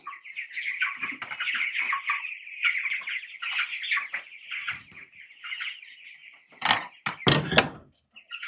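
Chickens cluck and squawk close by on a farm, a steady run of chattering calls with a few sharp louder outbursts near the end.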